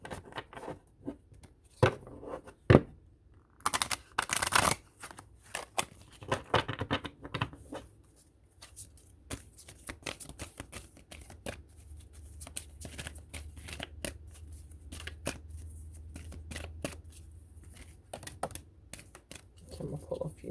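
Tarot cards shuffled and riffled by hand in a quiet room, giving dense runs of papery flicks and snaps, loudest early on, with a low steady hum underneath later.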